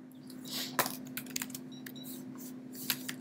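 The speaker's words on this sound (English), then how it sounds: "Let me type in here." Someone types on a computer keyboard, a quiet scattered run of light key clicks with a few sharper taps over a steady low hum, no talk.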